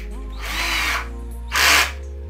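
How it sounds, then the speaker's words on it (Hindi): An electric drill with a bit bores holes into a microwave oven during a repair, two loud whirring bursts close by with a short pause between them, no talking. "तो अब मैं दोनों जगह ड्रिल करता हूँ"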